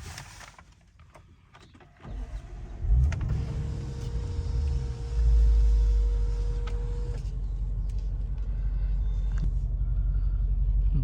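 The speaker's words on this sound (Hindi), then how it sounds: "जैसे ही मैंने कार स्टार्ट की" A 2018 Range Rover Sport SVR engine cranks and catches around two seconds in, then settles into a loud, steady, deep idle rumble close by, with a faint whine over it and no talking.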